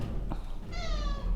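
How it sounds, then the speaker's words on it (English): Domestic cat giving a single short, clear meow close to the microphone in a quiet room, preceded by a brief faint noise. "I know, you're a obnoxious kitty."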